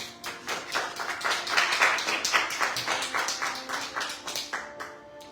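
Church congregation applauding together, a dense, fairly close patter of many hands clapping that rises and then tapers off over a few seconds, with no speech.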